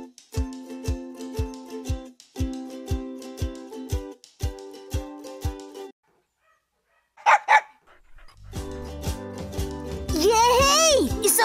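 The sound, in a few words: puppy barking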